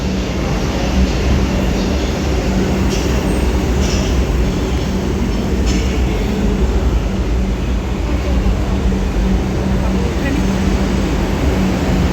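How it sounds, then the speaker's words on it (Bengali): A loud, continuous rumble of an arriving metro train with a steady low hum and occasional metallic squeals, close by and without clear speech. "এসে গেছে মেট্রো"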